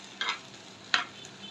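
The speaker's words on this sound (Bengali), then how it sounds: "পেঁয়াজের সাথে শুটকিগুলো একসাথে ভেজে নিব।" Onion and dried fish fry together in a generous amount of oil in a pan, a soft low sizzle broken by two brief scraping stirs, quiet and close.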